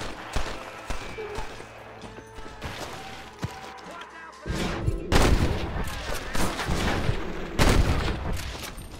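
Gunfire in a Red Dead Redemption shootout, with scattered sharp gunshots early on, then denser, louder bursts of shots and impacts in the second half, mixed with game sound and occasional voices.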